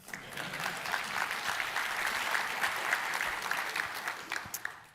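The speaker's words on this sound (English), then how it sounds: "feel free to clap at any time" Audience clapping during a tech conference keynote, a full round of applause swelling quickly and holding steady before thinning out, with scattered individual claps near the end.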